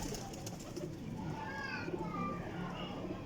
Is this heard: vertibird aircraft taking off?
no